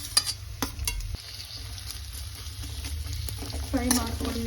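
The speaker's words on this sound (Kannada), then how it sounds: "ಫ್ರೈ ಮಾಡ್ಕೊಳ್ಳಿ ಈರುಳ್ಳಿ." Chopped large onion frying in hot oil in a pan while cooking chicken fry: a steady, soft sizzle with occasional clinks and scrapes of a stirring spoon against the pan.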